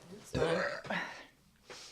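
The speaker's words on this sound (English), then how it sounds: "I'm burping" A couple of low, throaty burps in quick succession, fairly quiet and close, followed by a short pause and a faint breathy sound.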